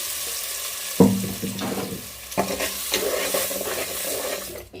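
Onion fried until browned, then tomato, ginger, onion and green chilli paste stirred in a pan, with a steady sizzle, scraping stirs and a few sharp clinks of the spoon against the pan.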